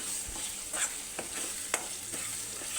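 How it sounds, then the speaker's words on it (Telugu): Spices with coriander powder and salt frying in oil in a pan for salna curry, a soft steady sizzle with a few sharp scrapes and clicks of a spoon stirring, quiet and close. "ఇవన్నీ కూడా మసాలాలు బాగా వేగి దగ్గరికి అవ్వాలండి."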